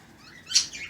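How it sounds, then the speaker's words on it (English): A single short, bright bird chirp rises briefly out of a quiet indoor background, faint and somewhat distant. "Birds are excited."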